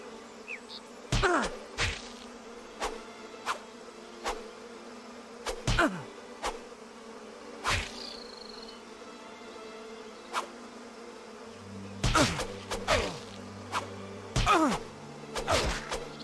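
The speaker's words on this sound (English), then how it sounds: "Goddamn bees." Bees in a video game, several short buzzing passes that swoop in and out over a quiet low hum, with clusters of repeated buzzes and thwacks toward the end.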